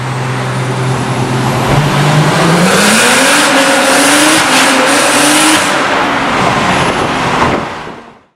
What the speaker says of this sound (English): You hear the turbo come on boost.